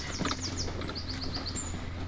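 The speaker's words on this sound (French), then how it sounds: "On entend les oiseaux." Birds sing and chirp outdoors at a rural work site where a path is being cleared, repeated bright whistling calls at moderate distance over a steady low background hum, with no talking.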